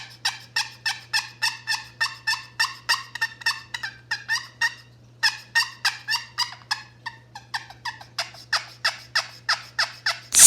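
A handheld turkey call worked back and forth produces a long series of rapid, evenly spaced yelping gobbles, loud and close, with a brief gap midway and a steady low hum underneath.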